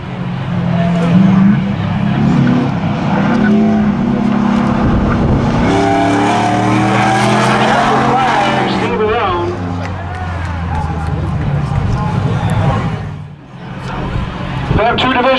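A modified truck roars down the backstretch at a stock spectator drag race, its loud engine note holding steady and rising in pitch as it passes, with an announcer talking over it throughout.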